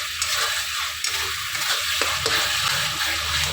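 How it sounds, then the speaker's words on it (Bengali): Spice masala of cumin seeds, chili, tomato and peas frying in a pan, a steady close sizzle with scraping stir sounds throughout, no voices. "মশলাটা এখন ভালো করে একটু কষিয়ে নিই।"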